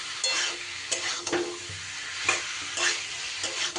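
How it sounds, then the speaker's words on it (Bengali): Green jackfruit with chicken is stirred and fried with spices in a pan, giving a steady soft sizzle broken by repeated scraping strokes of a spatula against the pan, close and alone. "আমি মশলার সাথে এঁচোড় খুব ভালো করে কষিয়ে নেব।"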